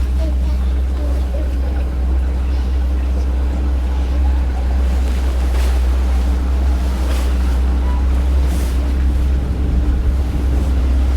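Axopar 28 Cabin MKIII boat turning at sea, heard as a steady engine drone beneath continuous wind buffeting and water rush, loud and constant throughout.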